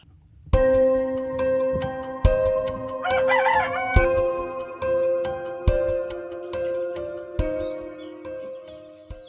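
A rooster crows on a country chicken farm, one loud wavering call rising clearly over a steady tonal background punctuated by sharp, regular knocks.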